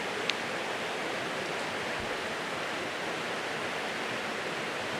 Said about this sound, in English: This is the River Dart.